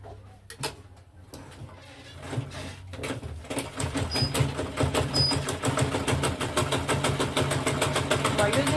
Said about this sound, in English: Okay, so now I'm going to stitch on it.